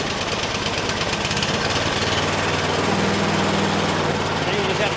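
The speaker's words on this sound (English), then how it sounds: "we're going to go ahead and try this again with the electric starter" A Yard Machine 10.5 HP 28-inch snow thrower cranking on its electric starter, a loud steady mechanical churning with a rhythmic knock that runs without a break.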